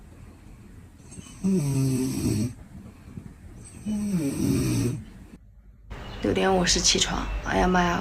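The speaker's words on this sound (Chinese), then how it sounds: "是因为旁边有个打呼噜的" A sleeping man snores loudly nearby: two long, rasping drawn-out snores roughly three seconds apart, followed by someone talking.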